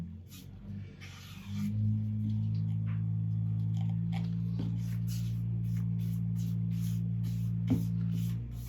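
Feed being delivered at a pig farm, heard as a steady, loud mechanical drone that starts after a second or so and runs on continuously in the background, with a few faint clicks and knocks on top.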